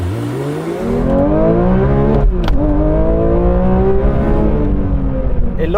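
A Porsche 911 S/T launches hard from a standstill, the engine note climbing steadily through the revs with a brief dip at a gear change before rising again, loud and close from inside the car.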